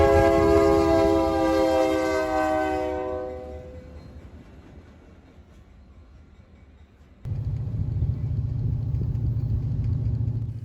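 A U.S. Sugar cane train at County Road 720 sounds a long, loud horn blast that fades away, followed by a steady low rumble as the train rolls past.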